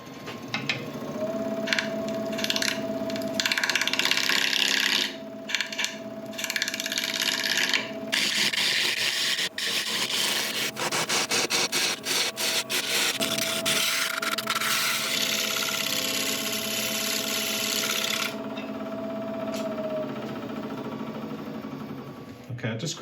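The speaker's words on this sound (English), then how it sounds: "I just quickly switched over to the scraper just to work on these wings" A scraper works a spinning laburnum log on a wood lathe, giving a steady rubbing, rasping drone with the lathe's hum beneath, broken by brief pauses and bursts of chatter, with a voice talking over it.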